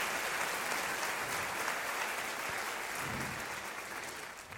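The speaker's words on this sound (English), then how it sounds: "Big applause for Howard Diane." A congregation applauds Rev. Howard and Diane Caesar at a church celebration, a broad, sustained crowd clapping that stays steady and fairly soft before tapering slightly toward the end.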